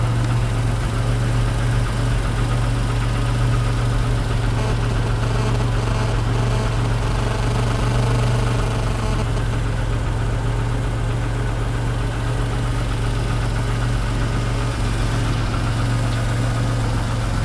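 A 1991 Chrysler LeBaron convertible idles steadily after a cold start, a close, loud, even engine drone with a constant low hum and light vibration, no speech.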